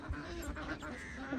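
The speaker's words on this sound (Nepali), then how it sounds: "यहाँनिर देख्न सक्नुहुन्छ हाँस रहेछ नि यहाँ" Ducks quack a few times nearby outdoors, short nasal calls over a low background murmur.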